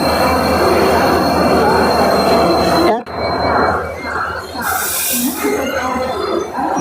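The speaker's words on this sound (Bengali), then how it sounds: "ফাইনালি আমাদের ট্রেন ছেড়ে দিল গন্তব্যের উদ্দেশ্যে এনজিপির থেকে ট্রেন বেরোচ্ছে" A local train pulls out of New Jalpaiguri station with a continuous loud rumble of wheels and carriages, a brief squeal and clatter midway, while people talk aboard.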